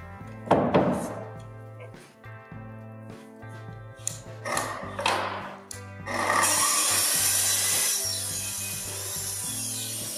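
A wooden plank being cut for a flat-roof garden shed, with rhythmic rasping saw strokes and knocks of wood, closer and louder near the end, alone without talk.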